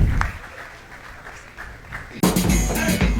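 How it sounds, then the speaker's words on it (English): Studio audience at a maths quiz final applauding the contestants at the end of a round, a burst of clapping starting abruptly after faint background noise. "End of the round, and applause for all the contestants."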